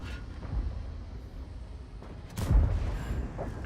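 Tank cannon firing in the World of Tanks video game: one deep, booming shot with a rumbling tail, heard over a low background hum at moderate loudness.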